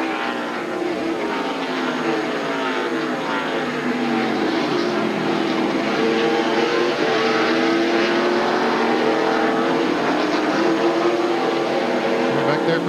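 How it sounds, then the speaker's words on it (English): NASCAR stock cars race through the turns at Sonoma in the 1999 Save Mart/Kragen 350, a continuous roaring engine drone from a pack of cars that swells and shifts, with a race announcer talking over it. "Got himself a good jump. Got about 3 car lengths out in front of Mark Martin."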